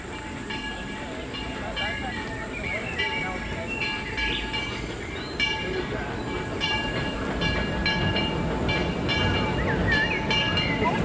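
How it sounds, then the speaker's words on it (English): A train rumbles steadily in the background, growing slightly louder over time, with chatter and other voices mixed in throughout. "Ooh, I hear a train."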